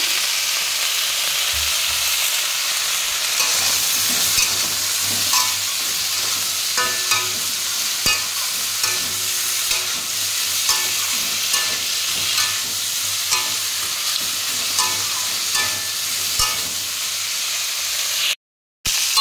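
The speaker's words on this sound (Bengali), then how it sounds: "সবজিটা প্রায় ভাজা হয়ে এসেছে" Vegetables fry in a pan with spices, ginger-cumin paste, salt and chillies, a loud steady sizzle with occasional scraping stirs, close and continuous.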